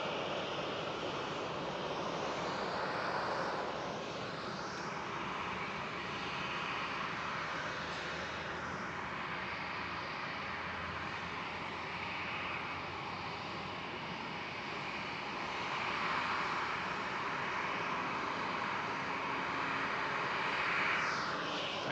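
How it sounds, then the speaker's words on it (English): A British Airways Airbus A320 taxis in at Schiphol Amsterdam Airport, its engines giving a steady, continuous roar at moderate distance that swells slightly toward the end, with no voices. "There is the British Airways A320 taxiing in."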